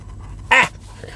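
A dog gives a single short vocal burst, a breathy whimpering pant, close by, with quiet background hum and no talking.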